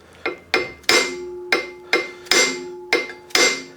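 A brass mallet strikes a cotter pin on a 1976 Raleigh Chopper bicycle in eight sharp, ringing metallic blows at an uneven pace, loud and close.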